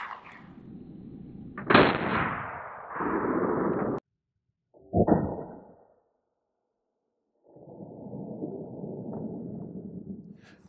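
Buckshot fired from an M&P 12 shotgun at a Level IIIA full-coverage armor vest: sharp, loud blasts ring out, separated by stretches of background noise and a silent gap.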